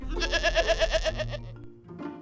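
Sheep and goats bleat in a close, loud series of about six wavering cries in quick succession, followed by a lower call and a brief final bleat.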